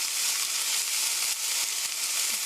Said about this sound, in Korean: 그래서 썰프라이 3min 3분 정도 볶아주세요.